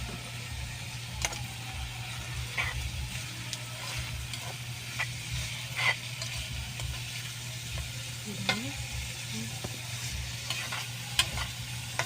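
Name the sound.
stir-frying Chinese ampalaya with spring onions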